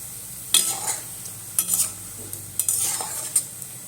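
Palm fruit fritters (taler bora) fry in oil over a low gas flame, giving a soft continuous sizzle with several distinct scrapes and clinks of a utensil against the pan, close by.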